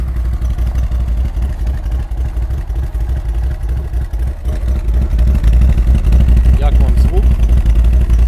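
A bassy V-twin engine of an Odes ML 850 cc ATV idles with a low, pulsing thump, growing louder partway through; a person speaks briefly over it.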